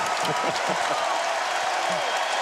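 Crowd noise in a full college basketball arena during a Colorado versus Cal game, a steady broad roar of applause and cheering with a commentator talking over it.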